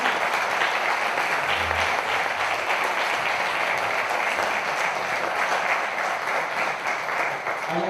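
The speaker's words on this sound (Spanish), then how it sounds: "Un aplauso muy fuerte para Jesús." Strong audience applause for speaker Jesús Ortega at a mystery conference in Zamora, sustained loud clapping from a sizable crowd lasting several seconds, with a few faint voices mixed in.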